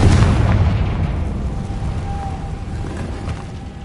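A Confringo explosive spell blast in Hogwarts Legacy gives a loud, close burst that swells immediately and then fades into a long rumbling tail.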